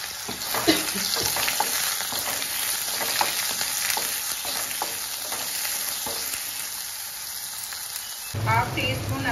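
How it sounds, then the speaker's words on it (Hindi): Chopped onions and green chilies frying in a pan for an aloo gobi matar sabji: a dense, loud, continuous sizzle and crackle with occasional stirring scrapes and a brief louder burst near the end. "मैं इसमें 2 डल्ली प्याज चॉप कर ली थी वो डाल दूँ, फ्राई करने के लिए डाल दूँ, और 3 हरी मिर्चें डाल दूँ उसके साथ।"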